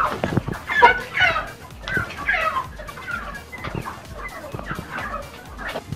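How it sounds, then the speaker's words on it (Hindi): Organic chickens on a farm in Pakistan, clucking and calling in a busy, continuous chorus at close range, with several louder squawks standing out early on. "आप देख सकते हैं कि ये कितनी चुस्त मुर्गियां हैं।"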